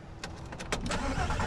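A VR6 car engine cranks with a few short bursts, then catches and settles into a steady, fairly loud running tone at close range.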